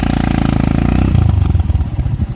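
A stalled tricycle motorcycle engine sputtering as it tries to start, loud and close, a rapid uneven chugging that drops into lower, ragged pulsing without catching.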